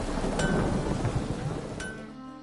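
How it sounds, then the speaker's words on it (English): Steady rain pours over a thunderous rumble during a storm in The Witcher 3, with two sharp crackles of thunder cutting through the wash of rain. "A storm, damn it."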